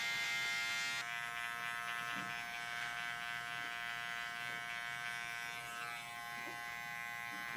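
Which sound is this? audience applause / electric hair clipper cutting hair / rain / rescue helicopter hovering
electric hair clipper cutting hair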